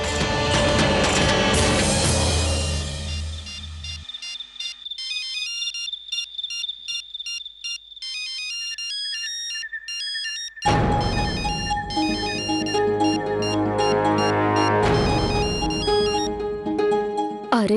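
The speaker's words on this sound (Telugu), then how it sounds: "కాస్త చూడండి, మీ ఫోన్ మోగుతుంది." A mobile phone ringtone plays a bright, repeating electronic melody, loud and close, with a brief quieter stretch midway before the tune swells back in at full volume.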